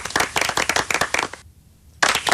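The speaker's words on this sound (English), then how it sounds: "I'm going to give you 2 rounds of applause" A host claps alone in two separate rounds: a quick run of sharp, close handclaps, a brief pause of near silence, then the second round starting.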